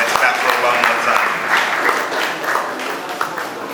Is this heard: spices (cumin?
no